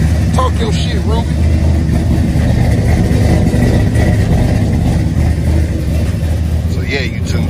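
A 1996 Chevrolet Impala SS V8 runs loud and steady at idle, with a low, continuous rumble through the whole stretch and people talking faintly over it.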